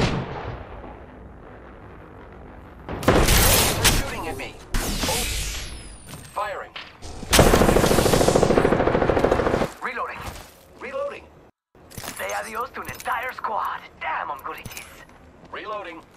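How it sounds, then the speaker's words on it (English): Bursts of loud gunfire and explosive impacts aimed at the player in a battle-royale style video game, arriving in heavy clusters with short gaps, with voices speaking between and over the shots. "Taking fire. They're shooting at me."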